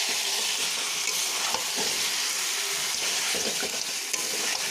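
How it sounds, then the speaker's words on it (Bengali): Country chicken is tossed into sizzling spice paste, a loud continuous frying hiss broken by thick, wet stirring scrapes and clanks of the spoon against the pan, with nobody speaking. "এবারে আমি নেড়ে মিশিয়ে দিচ্ছি"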